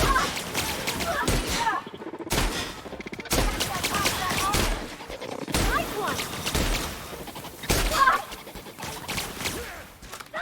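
Rapid gunfire from The Outer Worlds video game crackles in dense bursts broken by brief gaps, loud and close throughout.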